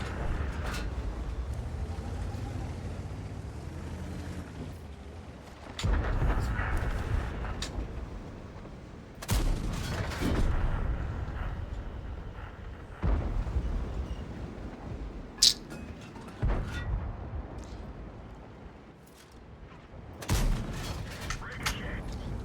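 Gunfire and ricochets in a shooting video game: several sharp bursts of shots at irregular intervals over a continuous rumbling background, with one bright pinging hit, and a voice talking throughout.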